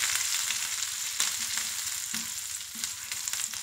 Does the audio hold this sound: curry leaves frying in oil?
yes